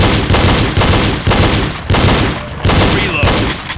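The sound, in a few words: pistol shots during a reload drill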